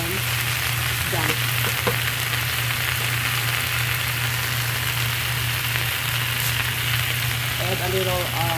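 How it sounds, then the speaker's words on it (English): Wild spinach fries in a pan with a steady, close hiss and crackle, and a low hum runs beneath it, while a few faint voice fragments come through near the start and end. "This wild spinach cooked very fast."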